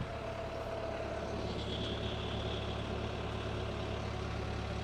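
A project boat's engine runs steadily at about 1,000 RPM, a constant low rumbling drone with a faint higher whine, close and even throughout, no talking.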